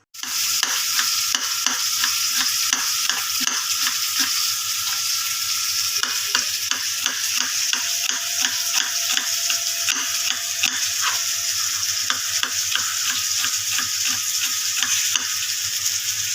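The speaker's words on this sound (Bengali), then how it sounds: "দেখো আমি এখানে পেঁয়াজটা ভাজতে বসে দিয়েছি" Onions frying in a pan make a loud, steady sizzle with a rapid, rhythmic clatter of a spoon stirring against the metal, carrying on without talk.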